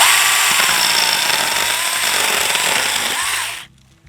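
Small chainsaw cutting through a piece of wood about 1.5 inches thick, a loud close, buzzing whine that holds steady for over three seconds and then cuts off abruptly.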